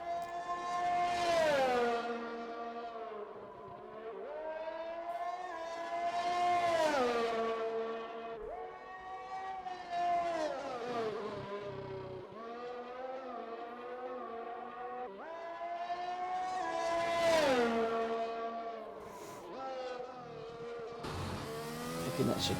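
Formula 1 race car engines in the F1 2021 video game at Imola howl through repeated high-pitched acceleration sweeps and downshifts, loud and continuous, with no commentary over them.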